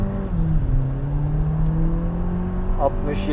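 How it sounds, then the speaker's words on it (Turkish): A Skoda Superb 1.5 TSI with tuned software revs hard and climbs steadily in pitch as it accelerates at full throttle, loud and close, with a brief higher whine near the end. "Şu an dip gaz yapıyorum."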